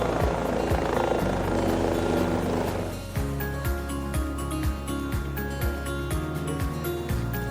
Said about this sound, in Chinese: 碰见了负责接送工作人员的直升机，在飞行员熟练的操作下，它在湖边狭小的空地降落。